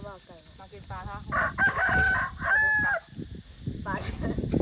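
A rooster crows twice in a row, loud and close, amid clucking chickens and scattered background noise, with a faint voice in the mix.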